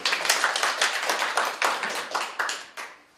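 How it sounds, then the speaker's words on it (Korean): An audience at a health lecture claps in a fairly close, lively burst with irregular overlapping hand claps that fade out toward the end. "박수로 보시고요."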